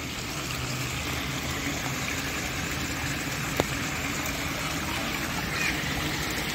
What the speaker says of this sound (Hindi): पहली बार इतनी ज़्यादा बारिश हो रही है।